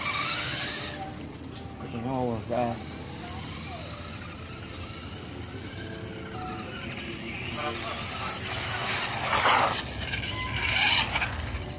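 A Helion Animus 18SC/18TR radio-controlled car whines and rasps as it drives, its small motor rising and falling with a scrabbling scrape of tyres on the surface, while someone talks over it at times.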